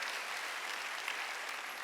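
Church congregation at a Sunday worship service applauds steadily in a brief, even wash of clapping, soft and somewhat distant, with no voices over it.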